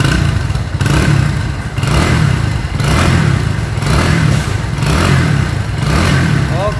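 A Kawasaki W175 TR motorcycle idles and revs up close, its engine rising and falling in several throttle blips over a steady mechanical clatter, with no talk.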